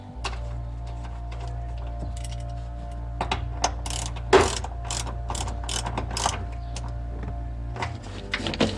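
A ratchet tightening the bolt on a seatbelt mount in a 1968 BMW 2002, with clusters of sharp clicks and metallic taps close by over a steady low hum.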